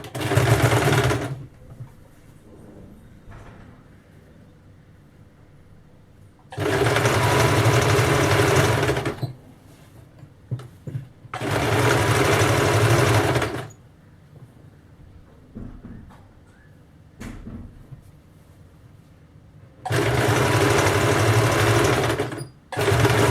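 A sewing machine stitches a blouse seam about a quarter inch in, running in four loud, steady bursts of several seconds each, separated by quieter pauses with faint handling sounds.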